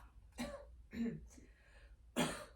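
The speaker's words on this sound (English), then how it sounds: "And then go ahead and cough." Three short, harsh coughs at uneven intervals, fairly close, with quiet gaps between them.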